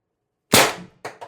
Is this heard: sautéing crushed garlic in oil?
no